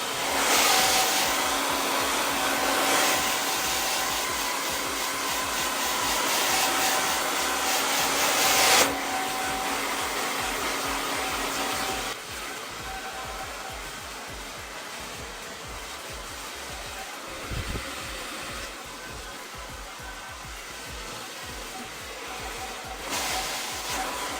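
A hair dryer with its diffuser removed blows loud and close on curly hair in a steady whoosh. The airflow shifts in pitch and strength as it is switched between settings and moved around the head.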